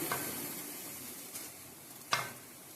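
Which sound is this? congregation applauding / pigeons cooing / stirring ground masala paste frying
stirring ground masala paste frying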